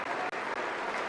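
An audience at a State of the Union address stands and claps in a dense, steady burst of applause heard from a distance.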